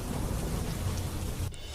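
Heavy monsoon rain pouring down in Mandvi, Kutch, a dense steady roar with low rumbling, fairly faint and distant, and no voices.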